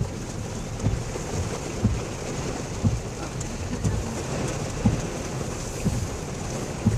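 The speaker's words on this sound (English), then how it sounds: "Doesn't seem to be raining as hard here." Steady rain during a tropical storm in Pittsburgh, a constant soft hiss with low rumbling wind and occasional thumps against the microphone, fairly faint and with no voices.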